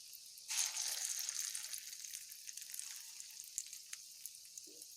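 Lentil fritters frying in a pan, a steady close sizzle that swells suddenly, then settles into a continuous crackling hiss with small pops scattered through it.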